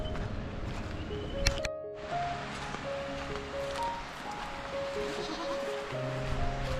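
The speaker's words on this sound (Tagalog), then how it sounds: "Ito yung kambing namin." Goats bleating in a quiet rural province setting, a few wavering calls over soft rustling background noise.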